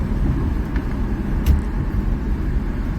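Car driving in rush hour traffic: a steady low engine and road rumble from inside the vehicle, with a faint brief hiss partway through, and no talking.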